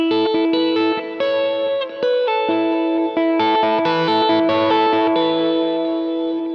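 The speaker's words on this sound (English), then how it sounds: "If I lean back and play with two pickups, I can get basically a clean sound." Clean electric guitar through a Kemper, two pickups, picked softly with the fingers, single notes and chords ringing with a light chorus-like shimmer, no talking.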